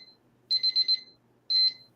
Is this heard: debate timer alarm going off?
yes